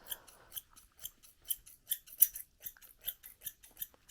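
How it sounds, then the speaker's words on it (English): Thinning shears trimming the face fur of a Coton de Tulear dog, a steady series of soft, close snips at a quick regular pace, quiet and crisp with no talking. "what I'm going to do is just take my thinning shears"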